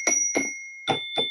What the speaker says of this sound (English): That's my beautiful Zen bell.